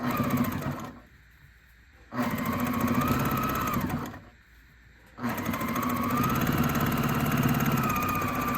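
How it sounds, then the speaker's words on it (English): Sewing machine top stitching fabric for a pediatric port shirt, running in three steady bursts of close, loud mechanical whirring with two short pauses between them. "now I can go ahead and open it up and stitch it, top stitch it down"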